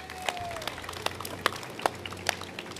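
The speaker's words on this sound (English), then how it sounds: "Give each other a round of applause." Scattered applause from an audience at a community construction kickoff event at a housing development, sparse individual claps rather than a full ovation, moderately distant and fairly quiet.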